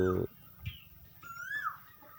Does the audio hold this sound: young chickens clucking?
yes